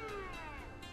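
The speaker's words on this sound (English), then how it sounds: "What the hell is wrong with this cat?" A cartoon cat in Scribblenauts Unlimited gives a single drawn-out meow with a slowly falling pitch, close and clear over a steady low game-music hum.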